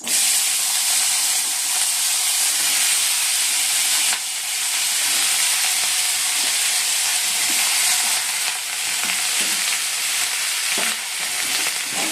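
Onions and potatoes frying in oil in a kadai, a loud continuous sizzle and hiss lasting throughout with occasional stirring scrapes and crackles, no voices.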